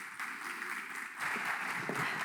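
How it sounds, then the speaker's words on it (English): Audience applause for a speaker coming up at a software-defined vehicle conference session, a steady broadband patter of clapping that swells slightly louder midway through and carries on to the end. "give her a round of applause"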